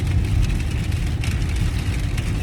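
Car engine while driving home in heavy rain, a steady low rumble and road roar close inside the cabin, with light rhythmic ticking and rushing noise over it.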